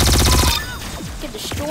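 Laser guns firing in the video game Arsenal: a loud, rapid stream of repeated shots that breaks off after half a second, then quieter scattered zaps and effects.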